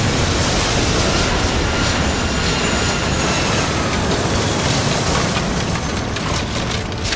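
A loud, steady roar of jet engines from a going-around airliner in the airport simulation game Airport Madness 3, continuous and unchanging throughout, with no speech.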